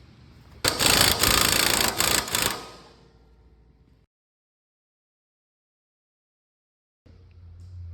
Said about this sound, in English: Now we're going to tighten up our roller assembly attachment.